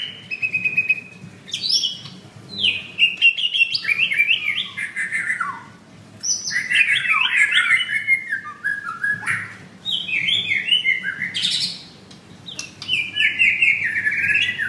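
White-rumped shamas (murai batu) in a bird dealer's warehouse in Kemayoran, singing loud, close, varied whistled phrases in repeated bursts separated by short pauses, with no voices.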